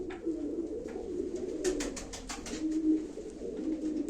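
Pigeons at a live pigeon auction coo in soft, repeated low calls throughout, with a brief patch of faint chirps in the middle, steady and fairly close against a quiet background.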